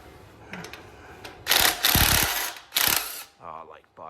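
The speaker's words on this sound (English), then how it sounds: "Now we got Mr. Drill." A power drill bursts on in short, loud whirring runs while removing bolts from a Yamaha Road Star Warrior motorcycle, with small mechanical clicks between runs and a brief voice near the end.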